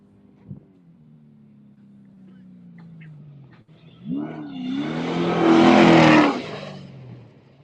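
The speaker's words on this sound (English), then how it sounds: "And we got another truck." Off-road race truck at the Baja 500 approaches with a rising engine drone, then roars past loudly with a broad revving surge before fading; commentators talk over it.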